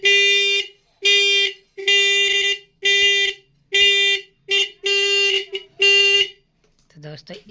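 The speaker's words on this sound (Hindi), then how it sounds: "तो दोस्तों एक हॉर्न तो इन्हें कर दिया ठीक।" A repaired car horn sounds in seven loud, steady blasts, each lasting about half a second with short gaps, followed by brief faint noise at the end.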